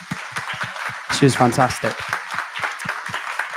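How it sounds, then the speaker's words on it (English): An audience at a Brighton AI user group event applauds a singer-songwriter who opened the evening; moderate clapping runs beneath someone speaking close to the microphone. "can we get a round of applause for her quickly?"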